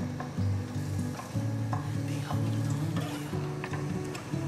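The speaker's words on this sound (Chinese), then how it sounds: "来拿去煎，锅内放入油，油热了放进来" Homemade vegetarian shrimp fry in hot oil in a pan, giving a steady crackling sizzle with occasional pops, close and moderately quiet, while a low rhythmic hum runs underneath.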